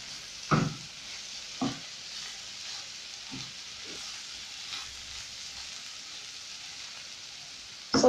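An olive, thyme and spice quiche filling is stirred by hand in a bowl, with a few scattered scraping strokes that sound faint against a steady background hiss and no talking.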